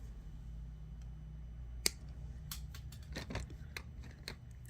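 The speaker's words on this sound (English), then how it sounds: "now we'll cut this extra little bit off" Wire cutters snip off an extra bit of wire while a found-object shell pendant is being made: a few sharp, quiet clicks and snaps over a faint, steady background hum.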